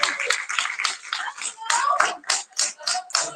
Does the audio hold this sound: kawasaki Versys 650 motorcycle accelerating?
no